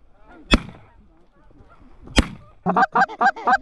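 Geese honk in a burst of several loud calls near the end, following two sharp shotgun blasts, during a snowy duck and goose hunt in Alberta.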